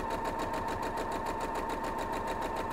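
A sewing machine stitching a quilt block, running in a rapid steady rhythm of needle strokes with a motor hum throughout, close and uninterrupted.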